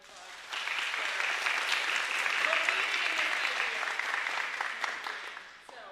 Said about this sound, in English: If you would help me, give her a big round of applause.